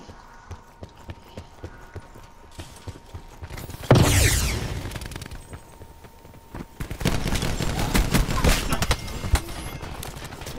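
Gunfire in Call of Duty: Black Ops 4, a sharp loud blast followed by sustained rapid bursts of shots, preceded by quieter footsteps and rattling game noise.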